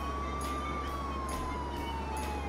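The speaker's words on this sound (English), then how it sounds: "The siren's on!" Police siren in the Contraband Police video game, a continuous wailing tone that slowly falls in pitch over a steady vehicle engine hum, loud and alone without talk.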